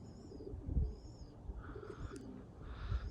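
Pigeons coo softly outdoors near a tree where a few have landed, low murmuring calls over a quiet background with faint higher chirps.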